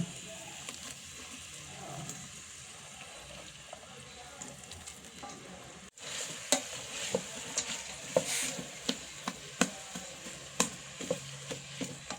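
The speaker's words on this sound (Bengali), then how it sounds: "এখন পেঁয়াজ, রসুন ও আদা বাটা একসাথে ভেজে নেওয়া হচ্ছে।" Onion, garlic and ginger paste fry together in a pan, a low hiss at first, then louder sizzling broken by regular scraping stirs in the second half, alone without talk.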